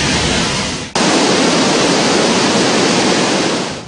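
Tinago Falls in Biliran, a waterfall over 30 feet high, pours with a loud, steady roaring rush that cuts briefly near the start and then continues unbroken and close.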